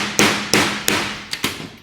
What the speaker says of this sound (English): I'm just going to take this with the hammer and just hit that right there